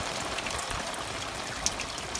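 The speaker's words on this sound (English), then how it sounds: "it's pouring rain" Heavy pouring rain before sunrise on a Florida alligator hunt, a steady dense hiss of falling water, even and unbroken.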